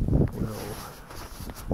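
Cold lakeside wind buffets the microphone in low rumbling gusts, strongest at the start and end, with faint rustling and no talking.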